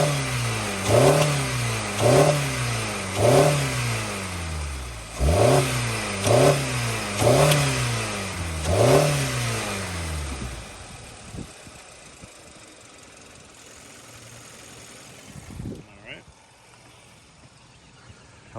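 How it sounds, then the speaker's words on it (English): A 2013 Hyundai Sonata GLS engine is revved in a series of quick throttle blips, each rising and falling in pitch, several in a row before settling back to a smooth idle, close and fairly loud. "I'm going to rev it up here a little bit so you can hear it at a little higher RPM."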